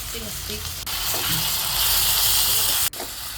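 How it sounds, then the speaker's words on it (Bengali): Red amaranth greens frying in a wok as they are tossed and stirred, a steady close hissing sizzle with rustling stir movements and two brief dips where the sizzle cuts out. "লাল শাকগুলো দিয়ে দেব, দিয়ে উল্টিয়ে পাল্টিয়ে ভালোভাবে নেড়ে চেড়ে রান্না করে নেব"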